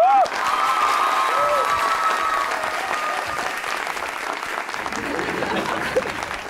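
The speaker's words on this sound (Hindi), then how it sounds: "नाम लिया नहीं फिर भी तालियां बज गई" An audience claps steadily and loudly for several seconds, with a few scattered cheers before the applause slowly fades.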